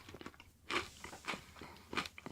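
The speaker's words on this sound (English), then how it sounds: "sorry for the munching noise" Late-night snack munching: a few crunchy bites spaced about half a second apart, with quieter chewing in between, close to the mic and without speech.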